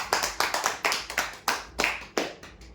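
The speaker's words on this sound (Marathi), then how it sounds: "जोरदार टाळ्या होत्या" An audience at a weekly prize draw gives a round of sharp, uneven hand claps, roughly a dozen distinct slaps in under three seconds, fairly close and free of speech.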